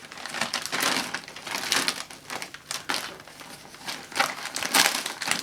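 Close, loud crinkling and crushing of a plastic mailing bag as it is handled and balled up, in uneven bursts of rustle throughout.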